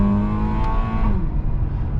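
Honda Accord Euro CU2 with a K24A engine and a new downpipe, heard as a loud, close, steady raspy, buzzy exhaust drone at low revs, holding then easing slightly.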